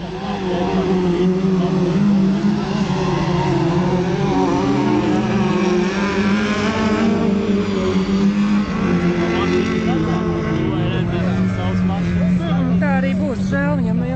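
Rallycross race cars lapping a circuit at an auto-cross event, engines droning loudly with rising and falling revs as cars pass, while a commentator talks continuously over the noise.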